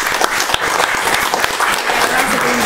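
Steady applause from an audience at an Indonesian formal gathering honouring a guest, dense clapping sustained at full loudness for the whole stretch without letup.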